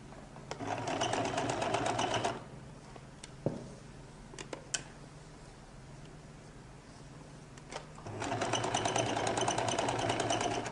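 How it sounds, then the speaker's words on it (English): Sewing machine stitching a lady's jacket, running in two loud sustained bursts at the start and end with a quieter pause between, where a few clicks and knocks of handling the fabric are heard. "I can begin to sew"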